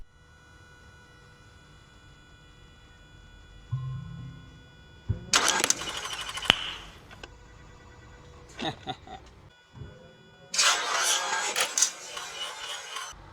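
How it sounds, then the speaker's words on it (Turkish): Car engine briefly cranked and started while a tight power steering pump belt seats onto its pulleys, giving two loud bursts of starter and engine noise with a short burst between, over a faint steady background hum. "Araca ufak bir marş verip oluşan momentumla sıkı kayışın yerine en az efortla oturmasını sağlamak."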